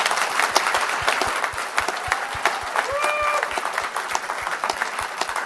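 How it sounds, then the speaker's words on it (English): A crowd at the Queensland Australian of the Year Awards ceremony gives a sustained round of dense, loud clapping that fills the room steadily throughout, with a faint voice or whistle briefly rising above it. "a round of applause"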